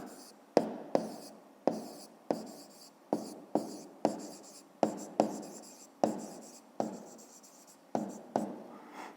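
A pen writes on paper during a fifth-grade math lesson: a close, rhythmic series of quick scratching strokes, each starting sharply and trailing off, with no voices.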